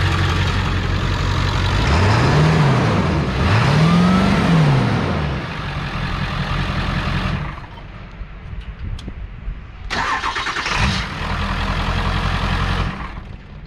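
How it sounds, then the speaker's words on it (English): A Ford 7.3 work truck engine with a big hole in the muffler runs loud and raspy, revving twice early on with rising and falling pitch, then settling into a rougher, quieter idle with brief bursts. "Big old hole in the muffler."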